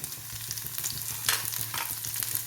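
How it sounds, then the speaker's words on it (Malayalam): Slit green chillies fry in hot oil in a pan for fish curry, giving a steady, close crackling sizzle with brief stirring scrapes. "രണ്ട് മൂന്ന് പച്ചമുളക് കീറിയതുണ്ട് അതും കൂടെ ഇട്ട് കൊടുക്കാം"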